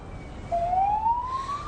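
A police car siren starts partway through and rises in a single long upward wail, moderately distant, over a low city rumble at a shooting scene.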